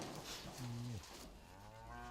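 A dairy cow on a farm gives one deep, drawn-out moo that falls in pitch and fades, heard nearby against quiet barn ambience.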